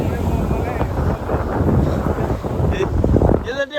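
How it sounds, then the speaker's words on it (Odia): Strong wind buffeting the microphone at Pentha sea beach, a constant loud rushing roar throughout with a voice speaking faintly beneath it. "ଟିକେ ପବନ ଲାଗୁଛି"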